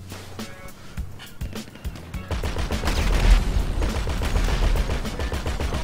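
Dense, rapid gunfire from a mounted gun with heavy explosive booms in a GTA 5 Online ambush, loud and continuous after a quieter opening, with scattered sharp shots early on.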